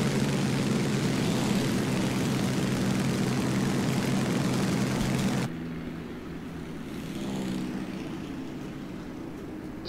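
Bf 109 fighter plane engine in War Thunder, a loud steady propeller drone that cuts abruptly to a quieter, lower engine hum with a faint rising whine, no talking.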